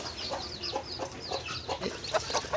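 A hen and her chicks cluck softly and steadily while feeding inside a cardboard carton, close by, with overlapping short peeps and clucks throughout.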